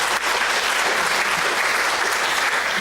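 Loud, close, sustained applause from a conference audience at an academia-industry-government conclave on a campus, dense clapping that stays even throughout.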